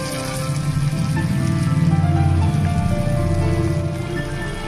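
Raw banana pakoras frying in hot oil give a steady, close crackle and fizz that stays even throughout, with a low hum beneath.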